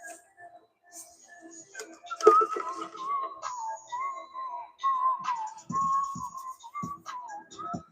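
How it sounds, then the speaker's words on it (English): A person whistles a wavering tune with sustained notes while painting boxes in a garage, accompanied by faint ticks and light background sounds. "Got me whistling away over here."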